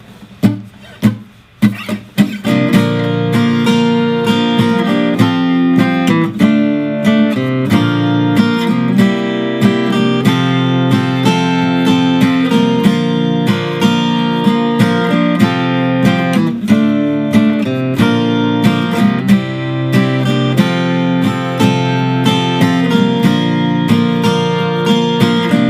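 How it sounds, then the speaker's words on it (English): Acoustic guitar playing the closing section of a song in a cover arrangement, steady strummed chords with single-note runs, close and continuous with no voices, over about 25 seconds. "I'm going to play through the last section of the song just so you guys can hear it all together"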